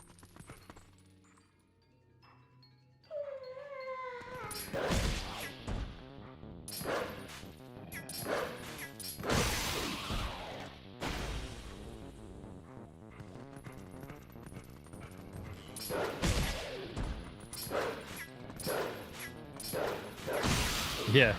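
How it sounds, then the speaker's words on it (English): A sleeping dog lets out soft muffled woofs and whimpers with its mouth closed, in short irregular bursts heard near, over game sounds and a few spoken words. "My dog is like sleep barking."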